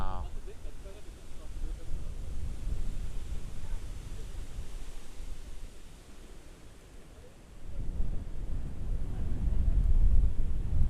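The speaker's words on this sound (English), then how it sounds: "The wind is really blowing." Night wind gusting among cherry blossom trees in Tokyo, a steady low rushing roar with buffeting on the microphone, easing briefly then swelling louder again toward the end.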